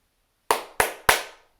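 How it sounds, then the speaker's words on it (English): Three sharp hand claps, evenly spaced about a third of a second apart, close and clear against silence, used to mark a good take while recording. "you're gonna wait 2 seconds, and then you're gonna clap 3 times"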